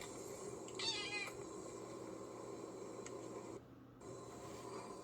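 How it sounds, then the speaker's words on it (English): A cat meows from an animal program playing on a screen, a short faint mew heard once against a steady hum of room noise. "Oh, the cat. Okay,"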